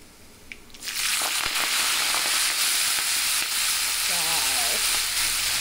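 Vegetables tipped into hot cumin in a pan, bursting into a loud, steady sizzle that jumps up suddenly and keeps hissing close by, with a brief voice heard under it near the end.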